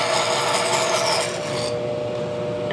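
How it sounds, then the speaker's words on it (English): A bandsaw blade pushes into a piece of wood with a loud, close rasping cut that stops abruptly partway through, leaving the saw running on alone. "We're just gonna put it on the bandsaw, let the blade come up to speed,"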